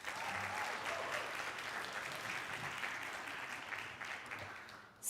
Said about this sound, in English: Can we please clap for all of them?